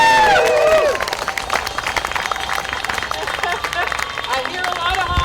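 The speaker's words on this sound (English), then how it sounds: "let's give a real round of applause for those folks" An outdoor crowd at a political rally breaks into sustained applause and scattered cheers after a voice over a loudspeaker finishes, with clapping continuing at a fairly even level throughout.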